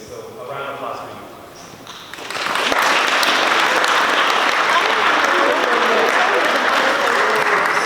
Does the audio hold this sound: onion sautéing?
no